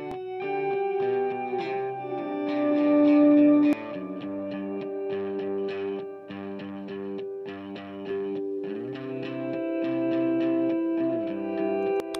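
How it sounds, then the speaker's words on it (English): Clean electric guitar chords and swelling notes through a soft analog delay with quarter-note repeats, each phrase echoing in time, giving a spacious, trailing sound. "So I've got a soft analog delay with quarter note repeats happening."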